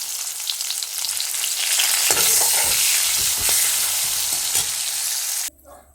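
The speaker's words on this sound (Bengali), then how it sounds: "প্রথমে আলু আর পেঁপেটা ভেজে নিচ্ছি।" Potato and papaya pieces frying in oil in a pan, a loud steady sizzle with scraping stirs of a spatula throughout, cutting off abruptly near the end.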